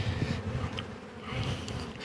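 Honey bees and drones buzzing in an open hive during a swarm-control inspection, a dense continuous low drone with individual bees droning past close by.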